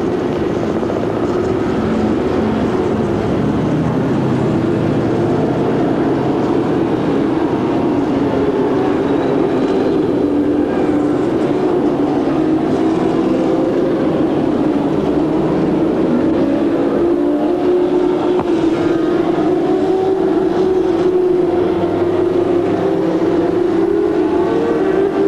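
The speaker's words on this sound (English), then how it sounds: "And now the field, all engines are started." A field of CART race cars at the start of the 1983 Las Vegas 200 fills the air with a continuous, dense engine drone, steady and loud throughout, its pitch slowly rising as the pack gets under way.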